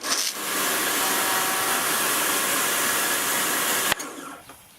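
A Karcher Ergo pressure washer motor whines loudly and steadily with its trigger held down, then cuts off abruptly near the end, leaving a quieter fading tail.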